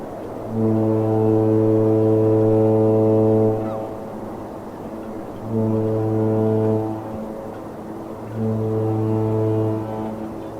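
Deep tonal horn blasts from the cruise ships Britannia and Majestic Princess departing port: three loud sustained blows, a long one followed by two shorter ones, with pauses between.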